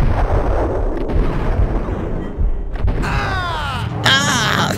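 Sustained roaring gunfire and booming blasts from a Max Payne video game firefight, dense and loud throughout, with whooshing sweeps near the end and no clear talk.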